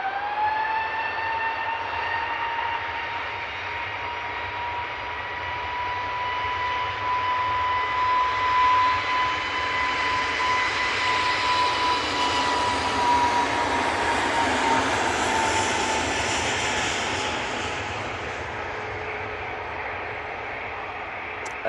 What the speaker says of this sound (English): that A321neo is off to Mahon